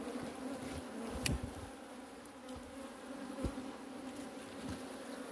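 Honey bees buzzing steadily around an opened log hive cavity, a dense close hum with a few louder passes as individual bees fly near.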